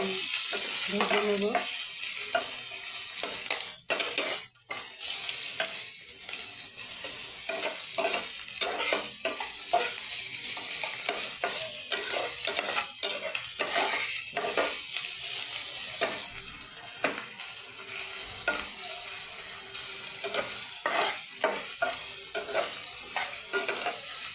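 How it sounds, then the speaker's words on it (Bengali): Chopped onions sizzle in a pan while a utensil stirs and scrapes them, with repeated sharp clatters and knocks punctuating the continuous frying noise, and no one speaking. "হালকা পেঁয়াজ ভাজানো হয়ে গেছে"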